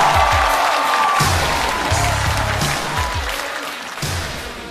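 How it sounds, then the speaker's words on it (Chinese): Studio audience at a Chinese comedy roast show breaks into sustained applause with some cheering as comedian Wang Jianguo is welcomed to the stage, loud and steady throughout, slowly tapering toward the end, with faint voices mixed in. "掌声欢迎王建国"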